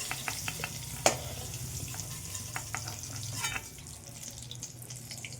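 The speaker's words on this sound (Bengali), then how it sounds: "এরপরে আমি টমেটো আর পেঁয়াজটা এক এক করে ভেজে নেব" Vegetables for a chicken pizza, such as capsicum, tomato and onion, sizzle in a pan while a spatula scrapes and taps in quick, irregular strokes, and the frying quiets toward the end.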